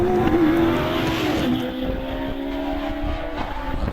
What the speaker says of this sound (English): This is also the ex-Works GR59 with the Hayabusa power.